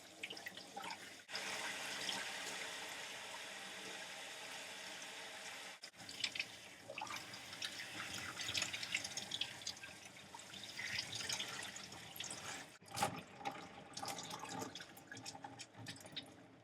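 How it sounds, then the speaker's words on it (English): Water runs steadily from a tap through a lace-front wig as it is rinsed at a sink, a continuous close splashing flow with brief breaks and shifting spatter throughout. "I'm just making sure that with the lace front, I always have the water flowing through it"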